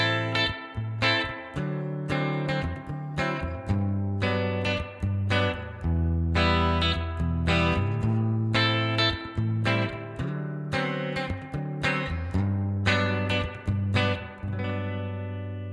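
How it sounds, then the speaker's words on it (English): Electric guitar strummed in repeated chords through a Headrush effects unit with reverb turned fully up, each strum washing into long, lush reverb tails that blur into the next. "let's bring up the reverb all the way so we can really hear what it sounds like"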